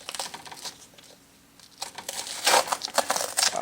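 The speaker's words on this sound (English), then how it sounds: "But you can peel your other tape away." Painter's tape being peeled and crinkled off a pellet stove during painting prep, a run of crackly tearing and crumpling noises that grows louder and denser toward the end, close by with no talk.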